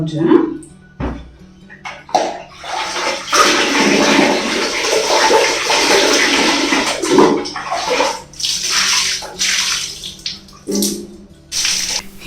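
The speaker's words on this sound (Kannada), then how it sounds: "ಇದೇನಪ್ಪ ಇದ್ಕಿದಂಗೆ ಚರಿತ್ರೆಗೆ ಸ್ನಾನ ಮಾಡಿಸ್ತಿದ್ದೀನಿ" Water splashes and pours from a tap while a baby is bathed, running steadily in close, loud bursts that stop and start, with someone talking over much of it.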